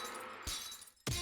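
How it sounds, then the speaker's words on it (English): Footsteps in the video game Haunted Museum II are rendered as shattering glass, heard as two sharp crashes about half a second apart, with no talk. "Why shattering glass for footsteps?"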